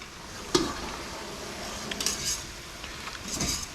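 Pasta is stirred into a broccoli and sausage sauce in a hot pan on a high burner, with a soft continuous sizzle broken by close clinks and scrapes of a utensil against the pan.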